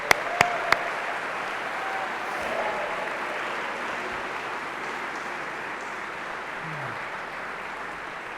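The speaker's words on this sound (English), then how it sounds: "a nice round of applause for our senior student athletes" A hall audience at a senior student-athlete awards ceremony gives a steady, sustained round of applause, a dense wash of many hands clapping at even volume from start to finish, with a few sharper knocks near the opening.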